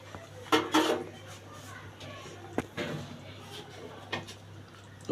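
A lid is set down on a cooking pan holding stuffed pointed gourd dolma, giving a few short clattering metallic knocks. The knocks are spaced apart over a low steady background hum.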